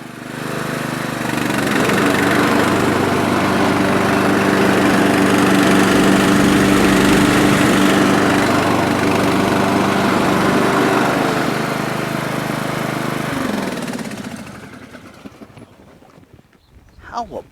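A Craftsman LT1000 16HP lawn tractor engine drones loudly and steadily with a low hum, then winds down and fades out near the end, leaving faint clatter.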